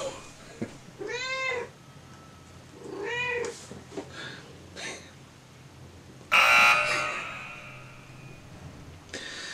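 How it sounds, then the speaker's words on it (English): A cat meows several times close by during scale model building of a 1/35 Leopard 2A7V kit, drawn-out cries spaced a second or two apart, followed by a sharp burst of clatter. "You always have a cat that wants to bug you."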